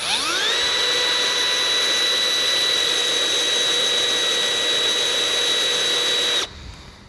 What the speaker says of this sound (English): we're then going to make a pilot hole.